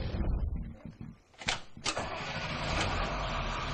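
A diesel school bus converted to run on waste vegetable oil cranks and starts, a grinding starter giving way to a steady mid-pitched idle that carries on loud and close.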